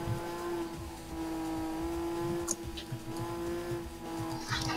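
A straight-six car engine in Gran Turismo 2 drones steadily, a sustained mechanical hum with faint tire and track noise, moderately loud and without speech.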